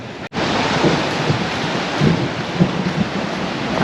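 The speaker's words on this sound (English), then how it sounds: "just to finish off thunder and lightning" A loud, continuous rumble of thunder with storm noise at a resort in Calas de Mallorca, rolling and roaring throughout with no voices.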